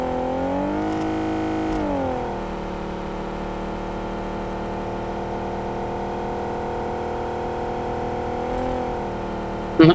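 A truck passes by on the road, its engine a steady loud drone that rises in pitch and then holds, with a brief sharp noise right at the end.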